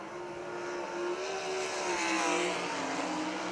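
Dirt track race cars roar around Millstream Speedway, engines droning and rising in pitch as the cars accelerate off a turn, heard loud and steady from trackside with no talk.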